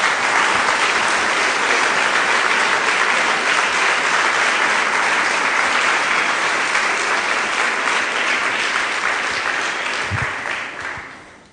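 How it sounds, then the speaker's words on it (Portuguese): A church congregation claps in sustained, dense applause that holds steady for about ten seconds, then thins and fades away. "Dê uma salva de palmas a Jesus."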